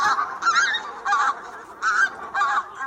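Geese from a far-north species such as pink-footed or tundra bean goose, giving four loud, clear honks in an even rhythm about half a second apart, calling alone and close.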